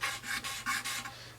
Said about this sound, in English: now I go back to scraping to get everything back to normal.